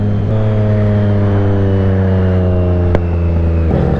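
Small Paika motorcycle engine held at steady revs, a loud close buzzing drone with a sharp exhaust pop near the end and a shift in pitch as revs drop.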